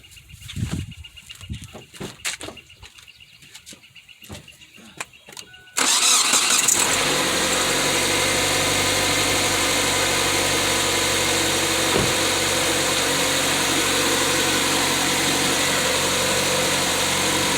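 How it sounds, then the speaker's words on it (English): A 2006 Kia Spectra with a newly replaced alternator and a freshly reconnected battery: scattered clicks and handling noises, then the engine cranks and catches, settling into a steady, close, continuous idle. "right now I'm gonna connect the battery, turn on the vehicle, then give it a test and see if it gonna turn off"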